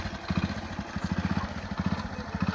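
A motorcycle engine chugs nearby with a fast, regular low thumping pulse that rises and falls slightly as the bike approaches and runs on, steady and clear throughout.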